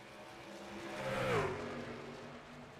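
Race trucks in a NASCAR-style truck series speeding past, an engine note that swells, dips in pitch as it passes and fades, moderately loud with a steady background roar.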